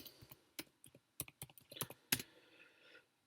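A computer keyboard clicks out a short password, about a dozen crisp, close keystrokes in an uneven rhythm over roughly three seconds, then silence.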